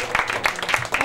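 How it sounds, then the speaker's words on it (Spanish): Quick bursts of clapping from a small group of partygoers, close and lively, in short uneven volleys over about a second, with voices mixed in. "¡Un aplauso para Citlali!"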